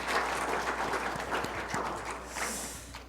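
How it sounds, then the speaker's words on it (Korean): Church congregation at a Sunday service clapping in welcome, a soft, steady patter of applause from a room of people, fairly quiet and even, with a brief faint murmur near the end. "박수로 환영합니다"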